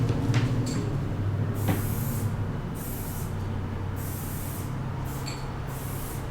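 Spray paint hisses from an aerosol can onto resin or a mural background. Several distinct bursts of airy hiss, each lasting under a second, come close and fairly loud, separated by short pauses over a low background hum.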